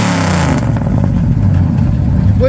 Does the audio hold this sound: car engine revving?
yes